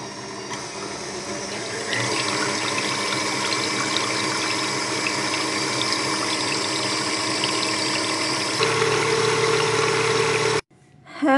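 Electric mixer whirring steadily as it stirs 500 grams of water with dissolved sugar and salt for a soft bun dough, a loud continuous motor-and-liquid churn that rises after two seconds and cuts off near the end.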